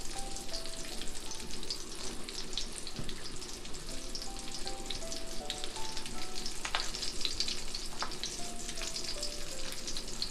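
Food sizzles and crackles steadily in a copper chip pan, a close, continuous frying hiss with scattered pops and occasional stirring, no talking.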